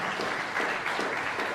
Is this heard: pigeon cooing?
no